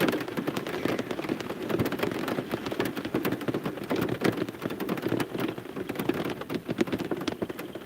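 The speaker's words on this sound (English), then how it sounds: "they said it was going to rain all day, but it's just been like light showers" Light rain showers patter steadily on a nearby surface, a dense, even crackle of drops that stays loud and close throughout without any voices.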